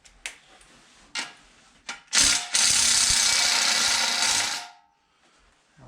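A bolt on an engine being tightened down with a ratchet: a few short clicks, then a loud sustained whirring ratchet run lasting about two seconds before it stops, close and with no talking.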